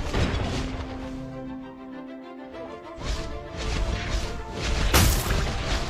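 In a mobile MOBA game, a turret is destroyed with crashing, booming game effects amid a dense mix of battle sounds, capped by a loud sharp impact near the end.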